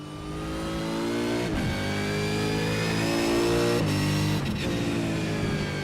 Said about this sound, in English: So I jumped in the Team Hyperdrive Mustang and I gave it a bit of a squirt